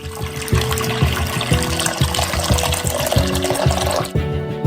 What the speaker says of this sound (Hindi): उबलते पानी के 2 लीटर डालो।